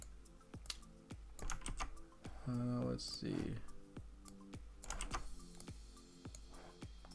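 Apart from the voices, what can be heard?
typing on a computer keyboard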